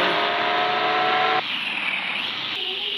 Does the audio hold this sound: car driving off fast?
yes